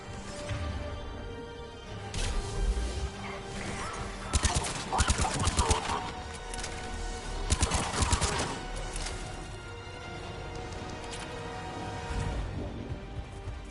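Rapid bursts of automatic gunfire and explosive impacts during a heavy attack in the Mass Effect 3 Legendary Edition video game, loud and dense throughout, with the heaviest volleys clustering in the middle of the clip.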